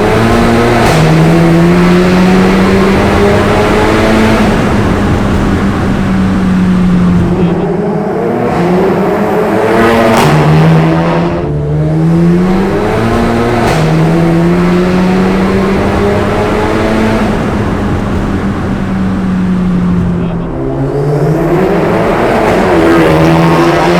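A tuned Volkswagen Golf GTI mk7, over 560 hp, accelerates hard in repeated pulls, engine tone climbing then dropping at shifts, loud and close from inside the car, with no talk.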